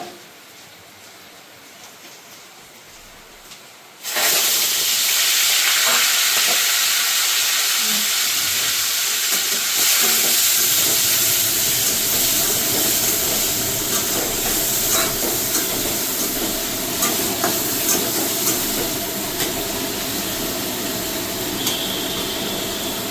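Prawns being lightly fried in a pan: after about four seconds of near-quiet, a loud, dense sizzling hiss bursts in suddenly and carries on steadily to the end.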